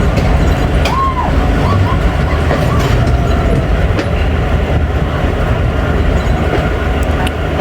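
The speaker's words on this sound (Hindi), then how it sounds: "अप्रोच बना रही है 13 अवाम एक्सप्रेस।" Awam Express passenger train pulling in to the main platform at Hassan Abdal station in Pakistan, with a steady loud rumble and rattle of railcars on the track throughout and a brief horn-like tone near the start.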